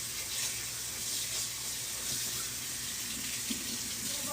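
Water runs steadily from a tap while tie-dyed shirts are rinsed, a constant hissing splash with no breaks, close and even throughout.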